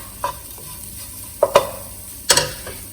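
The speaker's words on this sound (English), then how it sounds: "They might start popping in the pan, that's fine. We're just going to toast them up a bit first." Ingredients toasting in a pan for a vegan dish, with a few sharp pops and clicks scattered over a quiet low background; three or four distinct bursts stand out close by.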